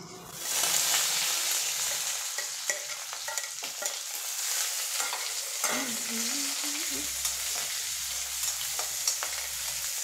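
Shallots and coconut pieces sauté in a pan, giving a steady close sizzle with occasional stirring scrapes and clinks. A short tonal whine appears partway through.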